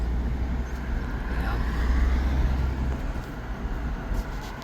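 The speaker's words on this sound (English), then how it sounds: "Listen to the traffic in the mountain." Steady road traffic rumbling on a mountain highway through open car windows, a continuous low broadband roar with wind buffeting, and a person saying a word briefly over it.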